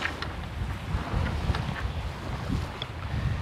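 Sailboat running under genoa alone with the wind well aft, rolling through sizeable waves; steady broadband wind rush and water wash fill the scene with constant buffeting, no voices.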